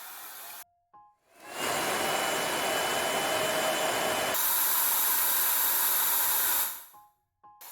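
A Tessa Airstick hair air styler blows a steady, loud rush of air for several seconds, shifting to a higher setting midway before switching off.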